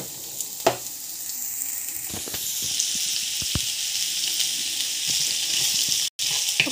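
Chopped onions and green chillies sizzle in hot oil with cumin, a steady close crackle broken by a few sharp clinks and scrapes of stirring.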